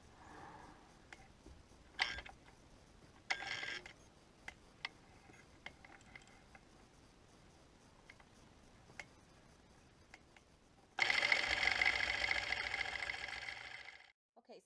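A longarm quilting machine bastes fabric with sparse ticks and light mechanical clicks, then runs loudly and continuously for a few seconds before stopping abruptly.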